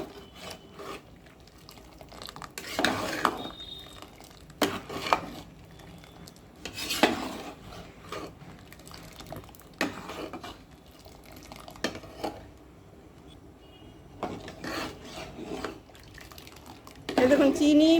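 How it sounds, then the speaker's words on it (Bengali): A pot of sugar, pectin, water and mango juice being stirred, with intermittent scraping strokes in bursts separated by quieter gaps, moderately close, a faint voice near the end. "জল, আমের রস সব মিশিয়ে আমি সমানে নাড়তে থাকবো।"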